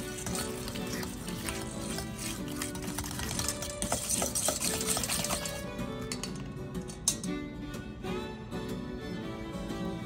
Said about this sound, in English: Stir together until thoroughly combined.